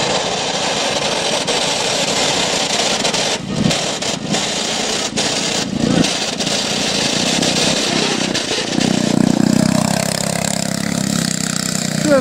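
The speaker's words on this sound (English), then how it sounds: "Right here in the background, the high-speed lawnmower tractor." A high-speed lawnmower tractor engine runs steadily and fairly loud throughout, with slight revving toward the end and no voices.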